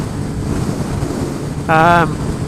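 Strong gusty crosswind buffets a rider on a Yamaha XJ6F motorcycle on an open road across fields, a steady roaring wind noise with a brief tonal horn-like blast near the end.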